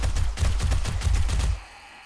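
SMG fire in 7 Days to Die, a tight burst of roughly ten rapid, punchy shots at close range that stops abruptly, leaving a quiet tail.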